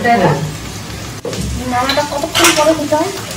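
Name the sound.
food frying and being stirred in a pan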